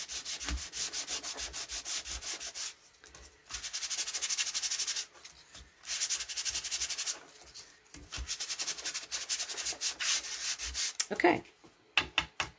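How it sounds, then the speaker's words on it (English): Sandpaper rubs across cardstock in bursts of brisk, close scratching strokes, separated by short pauses, with no talking. "you can sand off as much as you want to reveal"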